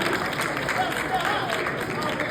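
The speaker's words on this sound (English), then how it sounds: "Give that a round of applause" Conference audience applauding in a large hall, a dense steady wash of clapping with crowd murmur mixed in.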